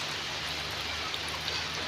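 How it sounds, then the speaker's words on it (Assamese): Rain falls steadily outdoors on a cloudy evening, a continuous soft hiss with a low hum beneath it and no talking. "আমনি লাগিছে, বৰষুণ দিয়ে আছে।"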